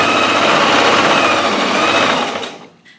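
A sewing machine stitches the arm-to-body seam of a cropped puffer jacket, running steadily and loudly close up for over two seconds before slowing and stopping.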